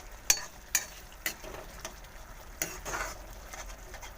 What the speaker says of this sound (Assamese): এনেদৰে মছলাখিনি মাজে মাজে লৰাই থাকিব